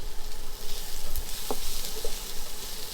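Onion, cabbage and carrot sizzle steadily in a hot pan, a dense continuous crackle with occasional stirring scrapes and clicks, close and alone without talk.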